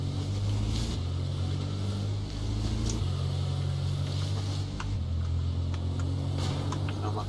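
A car engine in the video game H1Z1 Battle Royale hums low and steady, shifting pitch a few times as it drives, with faint wind noise and no talking.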